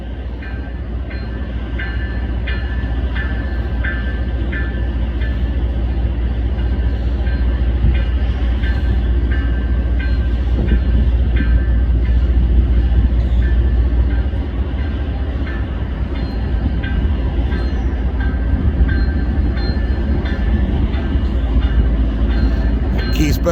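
A Canadian National freight train rolls past in Green Bay with a loud, steady rumble and rattle of railcars that holds for the whole stretch, a faint voice over the noise.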